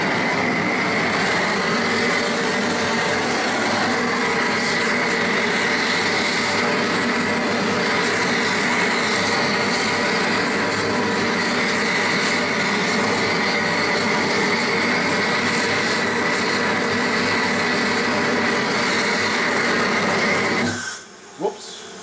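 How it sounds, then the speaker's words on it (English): An exhaust fan runs as a loud, steady, unbroken whir for about twenty seconds and then cuts out abruptly near the end. "I've got to put the exhaust fan on"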